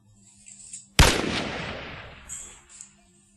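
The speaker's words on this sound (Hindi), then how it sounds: "अब अपनी गन को यूज करके देखते हैं।" A single loud gunshot rings out in the audio game The Messacre, a sharp blast followed by a long decaying boom and echo over a quiet background.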